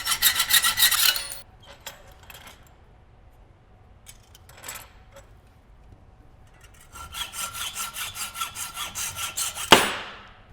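Dremel rotary tool cutting through a metal cutlery spoon handle during ring making, loud grinding bursts at the start and again near the end with quieter scraping between and a sharp final snap.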